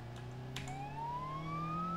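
A synthetic police siren from a Japanese police car in BeamNG Drive rises steadily in pitch, faint and continuous over a low engine hum.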